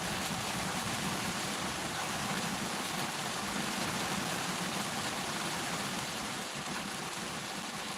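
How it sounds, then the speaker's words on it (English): Heavy rain pouring down outdoors, a dense, constant hiss of falling water with no letup, loud and close throughout. "you guys can bear witness to the rain amount that I'm talking about"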